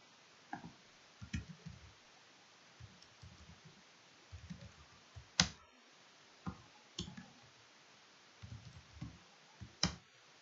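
Scattered computer mouse clicks, sharp and isolated with irregular gaps, sound close up and quiet over a faint background hiss during an online form registration.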